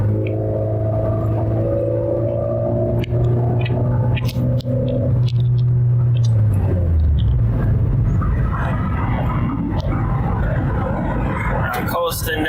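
A vehicle engine running in low gear, a loud steady drone near at hand whose pitch falls and gives way to a rumbling roar as it coasts downhill, with someone speaking over it.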